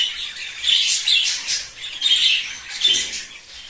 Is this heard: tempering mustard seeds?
no